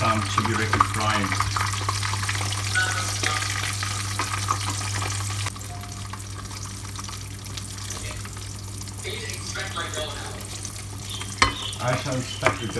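Chebureki, filled dough pastries, fry in hot oil, giving a continuous dense sizzle that softens partway through, with scattered pops and a sharp clack near the end.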